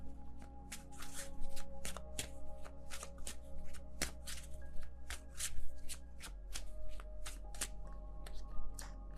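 Tarot cards get shuffled by hand in quick, repeated riffling bursts over a low steady hum, crisp close-up flicks and taps with no talking.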